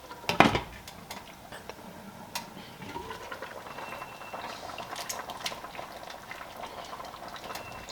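Ginisang munggo, a mung bean stew, bubbles in a pot at its second boil: a steady simmering and bubbling hiss, with a few metallic clinks of utensils against the pot near the start.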